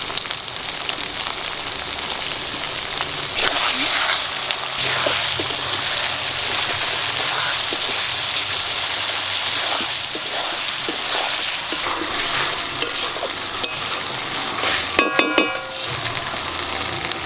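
Onion and a paste of green chilli, dried chilli, cumin and coriander fry in a pan for mutton curry. The sizzle stays loud and steady and close, with stirring scrapes and a few sharp clinks near the end. No one speaks.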